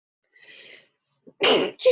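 A single sharp sneeze in two bursts, a quick intake then a loud close explosive burst, after a faint murmur.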